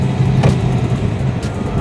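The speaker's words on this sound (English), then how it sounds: "I got a little bit of traffic here." Traffic on a race circuit heard from behind the wheel: a loud, continuous engine drone with a brief whoosh of another car going by, and no voices.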